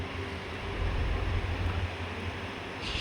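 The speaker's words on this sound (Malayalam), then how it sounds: "നല്ല അടിപൊളി കാറ്റാണ്" Steady wind roars and buffets on board a moving passenger train near Anandapuram railway station on the Talguppa–Mysuru intercity express route, a broad low rumble that swells slightly midway, with no voices.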